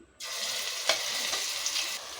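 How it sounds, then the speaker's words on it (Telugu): Onion paste hits hot oil for a farm chicken curry, bursting into a sudden loud sizzle that holds steady with a few sharper spits and crackles, with no voices. "మనం మిక్సీ వేసుకున్న పేస్ట్ మొత్తం ఇందులో వేసేసుకుందాం"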